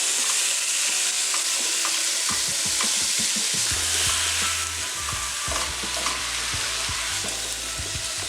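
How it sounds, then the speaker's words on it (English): Deer meat mashed into a frying onion and garlic mixture in a pan, a loud continuous sizzle with repeated scraping and pressing strokes from a utensil, close and steady throughout, no voices. "So now I'm going to add the deer meat."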